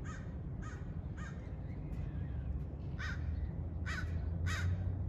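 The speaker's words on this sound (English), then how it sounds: "that crow." A crow caws several times at a moderate distance near a skate park, in short harsh calls with gaps between them, over a low background rumble.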